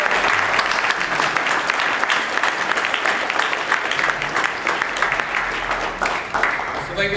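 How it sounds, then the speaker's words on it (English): Applause from a comic convention panel audience for students who made comic books, a dense, steady clapping that fills the room for several seconds at close range. "So quick round of applause for these students."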